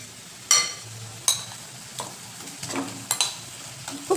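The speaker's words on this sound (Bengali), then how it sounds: "এরপর আমরা চিকেনগুলোকে এর মধ্যে দিয়ে দেব।" Chicken pieces hit a hot frying pan for a mango chicken with honey dish, giving a soft sizzle broken by several sharp clacks and scrapes of stirring.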